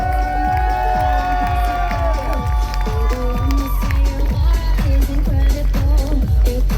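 A crowd at a cosplay parade during a gaming expo in Orléans applauds and cheers loudly and continuously, while a heavy rhythmic music beat pounds underneath throughout.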